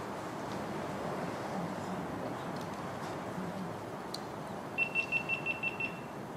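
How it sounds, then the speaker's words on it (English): A rapid series of short, high electronic beeps sounds near the end over steady wind-like background noise. "Making me nervous, all that beeping, John."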